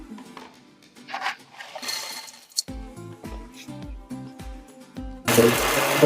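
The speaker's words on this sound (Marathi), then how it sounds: "हे मिक्सरला बारीक करून घेऊया।" A mixer grinder pulverises biscuits for a chocolate cake, starting with short rhythmic stuttering pulses and rattles before breaking into a loud, dense whirring burst at the end.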